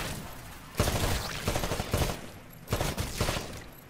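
Rifle fire at shooting range targets in the video game Titanfall: loud, close bursts of rapid gunshots in several volleys with brief pauses between them.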